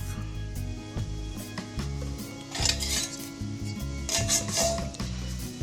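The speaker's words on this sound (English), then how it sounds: "And that Solo stove being set up." Metal parts of a Solo stove clink and clatter as they are fitted together, a string of light metallic knocks and rattles at close range over a low background hum, with no talk.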